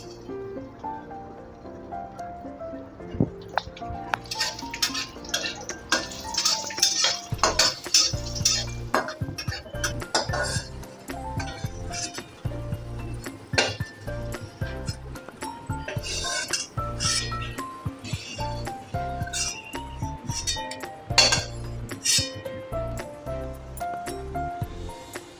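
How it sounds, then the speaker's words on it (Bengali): Raisins fry in hot ghee in a pan while making Bengali sweet pulao, with steady sizzling under repeated clinks and scrapes of a metal spoon stirring against the pan, close and fairly loud throughout. "এবার কিশমিশটা ভাজছি।"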